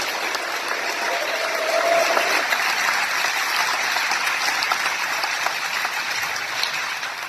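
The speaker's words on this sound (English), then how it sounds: "So I'd like to give Dr. Garvin a round of applause" A crowd gives a sustained round of applause at a Ride for Kids charity motorcycle event, loud and steady clapping with faint voices and a brief whistle mixed in.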